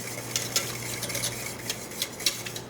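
Gravy seasoned with pepper and thyme simmers in a pan under a soft sizzle while a utensil scrapes and clinks against the pan several times, close and quiet.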